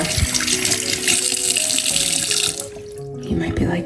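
Cold tap water running over a doll's hair, a loud close gushing stream from the faucet that cuts off near the end, with a few faint tones and a voice in the background.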